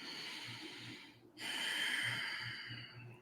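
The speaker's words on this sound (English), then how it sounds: "that ujjayi breath where you make that ocean-like sound" Slow, audible breaths, a soft rushing inhale followed by a longer, louder hissing exhale like ocean waves, close to the microphone.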